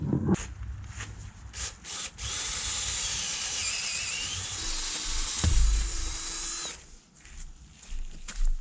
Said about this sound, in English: Let's drill our second hole.